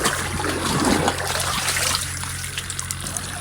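Water splashing and trickling into a plastic drum, apparently for mixing a crop spray, a continuous gurgling pour that thins to lighter drips, with a low engine hum beneath.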